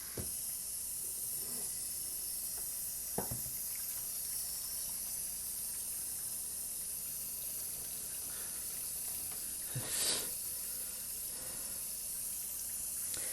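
Tap water runs in a steady broadband hiss while developed film is rinsed in a home darkroom sink. A few brief splashes and knocks break through the flow, loudest around the tenth second.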